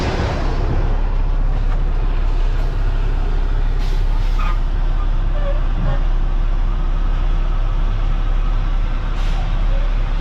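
A truck eases forward out from under a tipper trailer at a dump site where dozers are working, its loud, steady diesel rumble continuous throughout with faint hisses and clanks on top.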